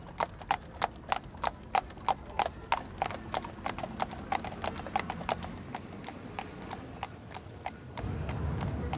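Steady, regular clip-clop of hooves from a ridden donkey, close and clear, in a run of evenly spaced knocks that stops near the end, giving way to a low rumble.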